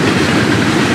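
A freight unit train of rapid-discharge hopper cars rolls past at close range, a loud continuous rumble with wheel clatter on the rails.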